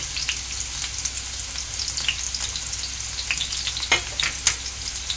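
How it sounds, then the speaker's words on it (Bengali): Steady sizzling and crackling of chopped onion and garlic frying in hot oil, close by, with occasional sharper pops and light stirring scrapes. "তেলটা গরম হয়ে গেছে। এবার পেঁয়াজ কুচিটা এতে দিয়ে দেব।"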